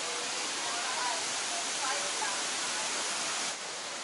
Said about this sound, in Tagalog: we are now here at Tinuy-An Falls